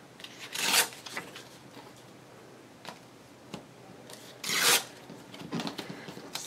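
Paper being torn out while making envelope ephemera, two short ripping bursts separated by a few seconds, with small rustles and taps between them, close and fairly quiet.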